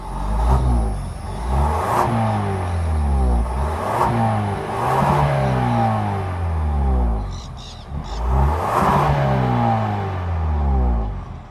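A 2023 Genesis GV70's 2.5-liter turbo four-cylinder idles and revs repeatedly, each blip sweeping up and falling back in close, loud engine tones, with faint bird chirps in the background.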